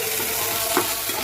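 Curry leaves and chana dal hit hot oil in a pan, producing a continuous close sizzle with a brief scrape of stirring near the middle.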